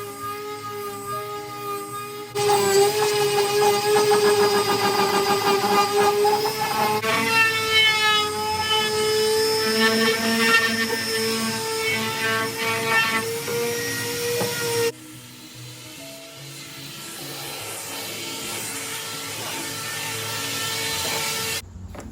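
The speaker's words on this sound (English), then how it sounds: "Once the old finish was totally sanded off" Power sander removing the old finish from a thrifted wooden desk, a loud, close, continuous whirring drone with scraping texture that starts abruptly, shifts pitch while working, then drops to a quieter hum.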